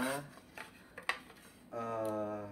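Several light clinks and clatters of pots, pans and plates being handled in a small home kitchen, scattered knocks between stretches of talk.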